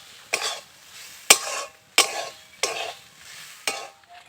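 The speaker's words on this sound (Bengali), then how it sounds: "বন্ধুরা, এটা কিন্তু এইভাবেই ভালো করে নাড়াচাড়া করতে হবে, নইলে আমার উনুনটা খুব জোরে জ্বলছে, কারণ তলায় লেগে যেতে পারে এবং নারকেলটা পুড়ে যেতে পারে" Grated coconut is stirred in a pan over a strongly burning stove for dudh puli pitha, giving five rhythmic, close scraping strokes with a faint sizzle between them.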